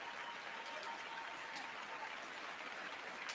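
Audience applause at a State of the Union address, a steady wash of clapping heard from a distance at even loudness throughout, with no talk.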